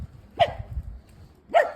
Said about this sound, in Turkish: havlamayın ya.